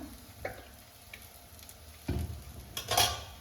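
Onion dosa cooks on a pan over a low flame, giving a faint continuous sizzle broken by a few soft scrapes and clinks of a spatula against the pan, with no voices.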